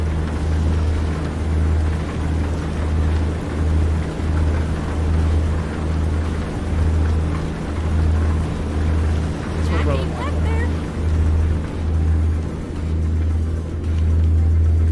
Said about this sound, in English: The internal hum of the truck.